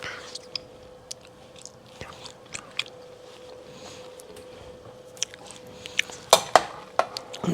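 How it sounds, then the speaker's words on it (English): Dry macaroni is stirred in a pan, with scattered scraping, clicking taps of pasta against the metal, and a quick burst of clatters toward the end, close up over a low steady hum. "Now you just want to stir it like this"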